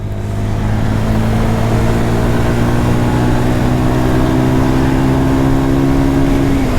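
A Bajaj Pulsar 150 Matte Twin Disc motorcycle being run in on petrol, its engine accelerating through the gears with a rising, steady drone and a tone that climbs smoothly, close and loud, with no voices.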